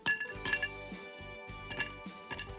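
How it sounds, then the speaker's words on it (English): Ice cubes clink and rattle against a short cocktail glass in several quick bursts, close and fairly quiet. "start with a short glass filled with ice."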